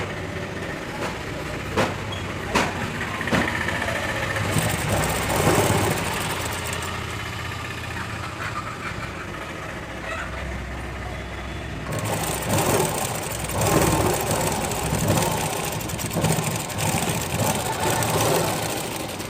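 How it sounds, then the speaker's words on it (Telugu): A sewing machine stitches the neck binding on a plain blouse in close, continuous whirring runs, with a short slowdown midway before it picks up again at full speed. "ఇలా మెడపట్టి మొత్తం స్టిచ్ చేసేసుకుందాం."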